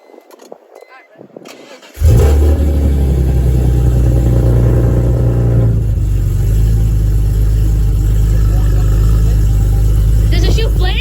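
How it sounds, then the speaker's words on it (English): A BMW E46 M3 engine fires up after some quiet talk and then holds a loud, steady, deep rumble close by, with slight rises in pitch; voices are heard around it. "Okay, so I guess I'm revving a car"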